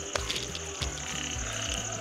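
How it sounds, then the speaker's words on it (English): Frogs croak in a steady, rhythmic series of low pulses outdoors at a nature retreat in the evening, with insects or other creatures chirping continuously in the background. "Frog sound."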